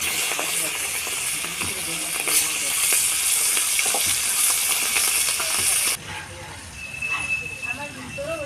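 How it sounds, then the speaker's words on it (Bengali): Tengra fish fry in hot oil in a wok, a steady loud sizzling hiss that cuts back sharply partway through. A person talks over it. "এবার আমি মাছগুলোকে ভেজে নেব।"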